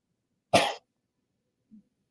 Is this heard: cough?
yes